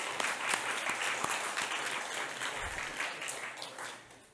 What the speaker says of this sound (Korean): 다시 한번 강 교수님께 박수 부탁드리겠습니다.